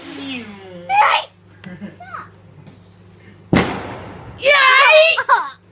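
Bonfire night fireworks, one sharp loud bang in the middle with children's excited voices talking and shrieking before and after it, near and punchy.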